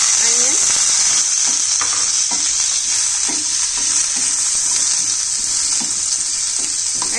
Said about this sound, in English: Now I have sauteed the onions.